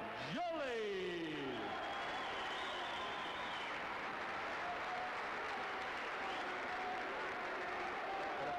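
Crowd at a professional boxing match in Scotland applauding steadily and broadly after the fight, a dense sustained clatter of clapping, with a commentator's voice heard over it.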